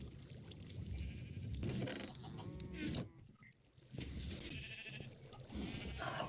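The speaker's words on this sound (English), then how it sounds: "we got sheep shearing going on" Sheep bleat on an automatic Minecraft farm, several wavering calls rising over a busy background of game noise and clatter, with a brief quieter gap midway.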